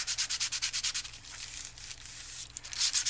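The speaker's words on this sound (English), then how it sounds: "where's my little sander? Just rub this down a little bit." A small handheld sanding block rubbed back and forth over the edge of a handmade journal, quick rhythmic rasping strokes close up that pause briefly and then pick up again, with no talking.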